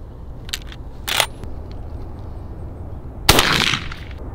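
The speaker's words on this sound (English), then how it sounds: "So I'm gonna go ahead and shoot the bismuth now and see." Shotgun firing heavy bismuth 3-inch shot: one loud, sharp blast with a brief decaying tail, preceded by a couple of softer clicks and bursts from handling the gun outdoors.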